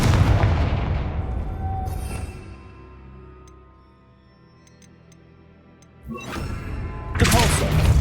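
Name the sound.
Confringo fire blast spell explosion in video game Hogwarts Legacy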